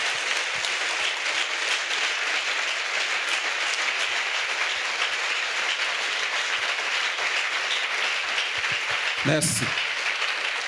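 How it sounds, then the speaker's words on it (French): A large congregation at an outdoor crusade for salvation and healing in Bafoussam claps for Jesus Christ, a dense sustained applause filling the whole span, with a short spoken word near the end. "Let's clap for Jesus Christ."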